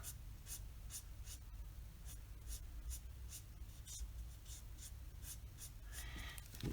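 An Ohuhu alcohol marker, used with its non-brush tip, colours brown hair on paper in quick, close scratchy strokes that repeat in a steady rhythm, soft and close with no talking.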